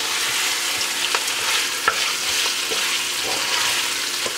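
Andouille sausages fry in a pan with a loud, constant close sizzle and a few faint pops and spatters, no voices.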